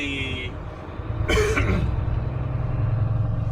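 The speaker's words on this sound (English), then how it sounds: "I've been clearing my throat a lot lately" A short throat clearing from the driver sits over the steady low rumble of a semi truck hauling a trailer on a highway, close to the microphone and brief against the constant road and engine drone.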